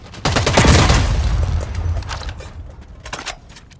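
Gunfire in the sci-fi extraction shooter EVE Vanguard: a loud, close burst of rapid shots with a booming tail, followed by scattered fainter single shots, with no talking.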